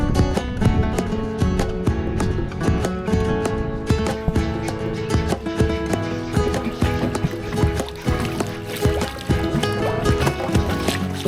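Boat on the Rio Dulce river in Guatemala's jungle, with a steady motor-like rumble and rhythmic knocking and splashing, dense and loud throughout, partly masked by music or layered noise.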